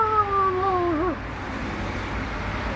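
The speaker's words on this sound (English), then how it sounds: "cat ain't never made no noise like that before" A house cat lets out a strange, drawn-out caterwauling wail that rises and bends for about a second, then cuts off, leaving only quiet room noise.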